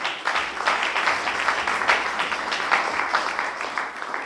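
A congregation applauds together in a continuous, fairly dense round of clapping that starts abruptly and holds steady, with no speech heard over it.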